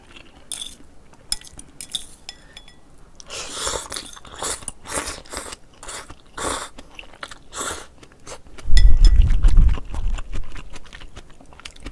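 Ramen with boiled lettuce being eaten: irregular crunchy bites and chewing sounds with clinks of cutlery, close to the microphone, with a louder burst of chewing near the end.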